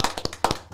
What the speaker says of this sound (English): Well, ladies and gentlemen, give Ken a round of applause.